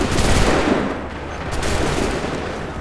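Volley of musket gunfire in Assassin's Creed III, a dense, loud burst of overlapping shots that decays into a rumbling tail.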